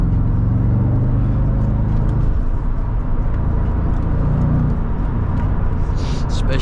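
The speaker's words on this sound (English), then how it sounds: "Especially when you're in a supercharged V8 from 2004." A 2004 supercharged V8 AMG convertible rumbles steadily while driving, a dense low engine drone with road and wind noise running continuously throughout, no speech over it.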